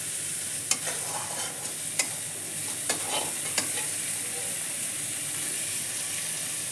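Onions in a pan give off a steady low sizzle while a spatula scrapes and rubs them, making a few sharp clacks at uneven intervals against the metal, heard close up with no talking.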